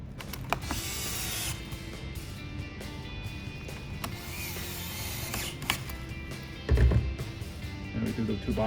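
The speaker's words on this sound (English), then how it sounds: "this is a Dewalt Gyroscopic Screwdriver" A Dewalt gyroscopic electric screwdriver drives bolts on a steering-wheel cruise control bracket in a 2004 S2000. Its motor gives a close mechanical whir with a few clicks and handling knocks, and a voice is faintly present.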